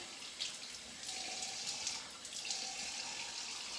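Cold tap water runs steadily into a sink for a face rinse after a straight-razor shave, a continuous soft hiss at moderate distance with no voices.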